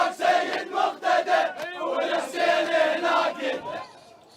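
Angry crowd storming the Swedish embassy in Baghdad: a dense mass of shouting, chanting voices rising and falling in loud waves, with raised cries layered over the din and fading near the end.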